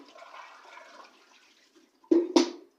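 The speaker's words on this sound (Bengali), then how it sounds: "দেখো আমি সবজি ধুতে বসেছি" Vegetables washed in water give a soft sloshing, followed by two louder, close splashes in quick succession.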